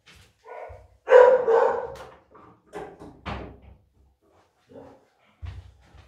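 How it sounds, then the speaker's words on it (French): A door swings and bangs shut indoors, with a cluster of knocks and a thud near the middle, mixed with a dog barking briefly and other scattered household clatter. "Alors, attendez, je vais fermer la porte."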